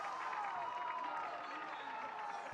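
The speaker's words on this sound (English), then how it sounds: "The crowd is now telling me there's not a chance" An arena crowd at a Valorant esports match, Sentinels against FURIA on the map Split at the VCT Americas Kickoff, makes a steady, loud wash of noise with a tonal whine running through it.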